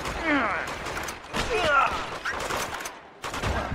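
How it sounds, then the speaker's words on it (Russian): Bursts of rapid gunfire in the game Uncharted 2: Among Thieves crackle in close volleys, broken by short pauses, with a voice talking over part of it. "А, все, стрельба началась, Лен."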